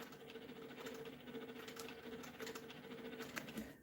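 A sewing machine makes a steady, fast mechanical patter up close as it locks in stitches on applique, set to 13 stitches per square inch, with a constant hum and a light, even needle rhythm throughout.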